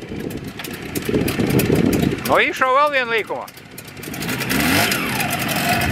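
A Russian motorcycle engine idles and revs, rising and falling in pitch, while people talk nearby over the engine noise.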